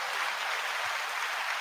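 Faint, steady applause from a crowd in a played-back live broadcast, a continuous dense patter of clapping heard at a distance and low in level.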